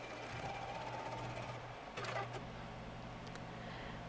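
Sewing machine with a walking foot stitching quilted fabric pockets, a close, continuous humming stitch rhythm throughout, with a brief higher rattle partway through.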